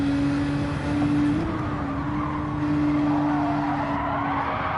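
A Nissan GTR race car lapping Spa in Gran Turismo 7, a steady loud engine drone with tires scrubbing and squealing under cornering, held close and continuous with a brief pitch dip as the car brakes.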